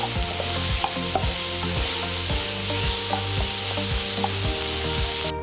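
Chopped onions sautéing in oil in a hot pan, a steady broadband sizzle with a regular rhythmic scraping of a spatula stirring them, close and continuous with no talking.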